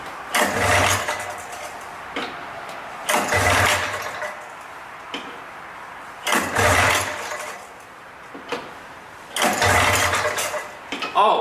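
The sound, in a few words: 1979 Kawasaki Drifter 440 snowmobile pull-start attempts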